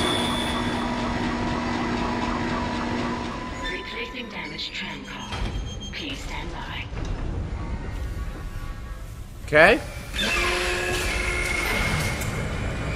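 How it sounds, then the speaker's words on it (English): A tram in the Dead Space video game rumbles along with a steady mechanical drone, then a sharp screeching burst and renewed whirring; a voice speaks briefly over it. "The tram is blocking the whole system."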